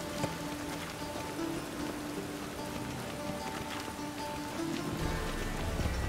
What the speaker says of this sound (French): J'aime bien quand il pleut.